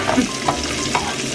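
Jengkol being stirred in a frying pan, with a soft continuous sizzle and light scraping strokes of the utensil recurring every half second or so, close up.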